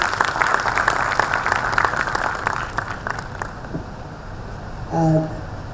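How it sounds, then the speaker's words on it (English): Audience applause at a corporate volunteering conclave as a speaker takes the stage, a dense wash of clapping through the first three seconds that gradually thins and fades, followed by a brief tone near the end. "Let us welcome him with a big round of applause"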